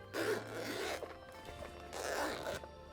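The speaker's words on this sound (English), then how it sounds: "It's a nice zipper." Two quick zipper pulls, close and crisp, separated by a short quiet gap.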